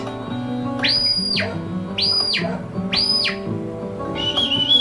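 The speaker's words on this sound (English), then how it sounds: "That whistle sound means left, means right." Three loud, rising-and-falling shrill sheepdog command whistles in a regular sequence in the Scottish Highlands, with a fourth shorter whistle trailing off at the end.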